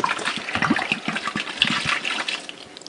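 Soy sauce, about 1.5 liters, pours steadily for a beef jerky marinade meant for 10 kilos of beef rouladen. The close liquid gush runs continuously for about three seconds with no voices.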